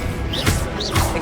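A spell is cast in Hogwarts Legacy, a video game: two bright magical whooshes with a thump, each with a rising sparkly tone, fairly loud over a continuous game background.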